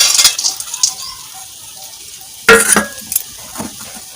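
Peanuts tossed into a pan of fried potatoes clatter and sizzle briefly, with a sharp scrape of a spatula against the metal and a few stirring knocks, close and fairly loud.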